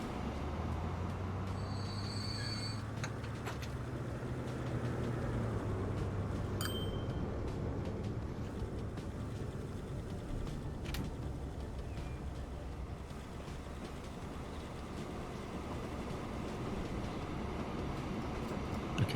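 Trains rolling through a Transport Fever 2 rail network: a steady, continuous rumble of wheels on track with faint squeals and brief tonal whines, no talking.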